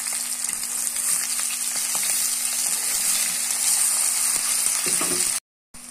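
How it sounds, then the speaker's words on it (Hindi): Okra coated in gram flour, chili and salt fries in hot oil with a dense, steady sizzle and a few soft stirring clicks. The sound stays close and even, then cuts out briefly near the end. "इस तरह हम डाल के इन्हें हल्का फ्राई कर लेना है कि आधी ये पक जाए कम से कम।"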